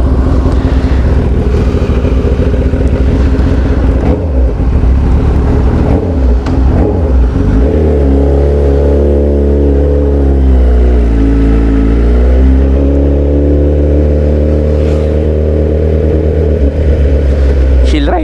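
Motorcycle engine at a motorcycle shop, loud and close, idling roughly then rising and falling through a couple of revs, with a voice talking over it.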